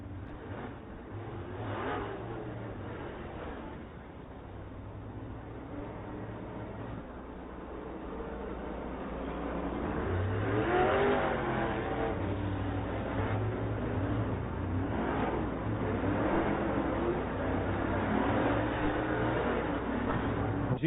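Late model race cars rumble and rev at Lernerville Speedway's dirt track, a blended pack of engines heard at a distance, swelling louder about halfway through as the field roars off toward the green flag.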